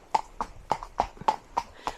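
Horse hooves clip-clop in a steady, even rhythm, about seven sharp strikes in two seconds, close and clear with no talk.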